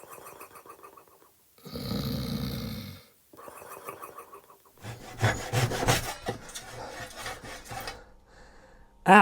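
A handsaw cuts through wood in loud, rhythmic rasping strokes, first a few separate bursts, then a rapid run of back-and-forth strokes, close up and with no talking.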